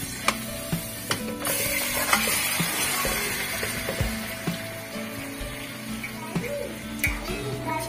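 Marinated chicken drumsticks sizzle steadily in hot oil in a kadhai, with repeated scraping and clinking as a spoon stirs them, close and continuous throughout.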